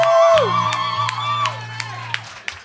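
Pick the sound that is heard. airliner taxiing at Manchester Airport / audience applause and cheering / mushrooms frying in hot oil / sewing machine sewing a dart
audience applause and cheering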